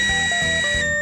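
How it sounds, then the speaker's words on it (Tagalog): A prepaid electricity meter in a UK home, out of credit at zero, sounds its alarm: a loud continuous high-pitched electronic tone with a pulsing low buzz beating underneath, about one second long. "tumutunog na siya alarm kasi yun nga, zero na"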